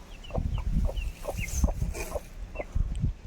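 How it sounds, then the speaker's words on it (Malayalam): Large hens cluck repeatedly in short, uneven bursts around a coop in the morning, fairly close and moderately loud, with no talk over them. "അപ്പം കോഴിക്കളെ വിടാൻ പോകണം."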